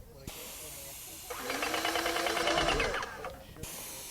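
A steady airy hiss of a HomeRight Power-Flo Pro 2800 paint sprayer spraying paint onto cardboard runs for a couple of seconds with a faint mechanical buzz, starting and stopping abruptly, close by.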